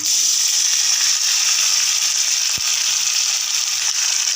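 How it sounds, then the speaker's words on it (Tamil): Greens poured into a hot tempering of mustard seeds, onion and dried chillies for a Tamil keerai dish, a loud continuous sizzle with one sharp knock midway, close up and without speech. "இப்போ நம்ம தாளித்து வச்சுருக்க கூட கீரையை ஊற்றிக்கலாம்."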